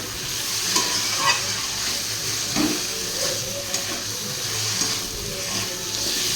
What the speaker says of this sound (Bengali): এবারে আমি জল দেবো তরকারিতে